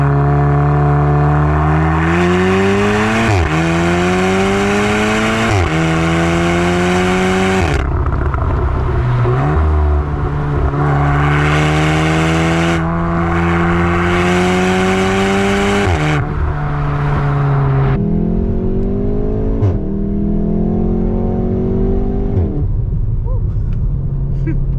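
A car engine revs hard through several rising gear pulls, each climb in pitch dropping sharply at the shift, loud and close throughout as the car drives fast.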